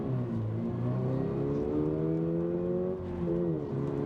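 A 2024 Toyota GR86 TRUENO Edition's naturally aspirated four-cylinder engine revs hard from inside the car, a loud, steady climbing drone that briefly dips and rises again with no voices.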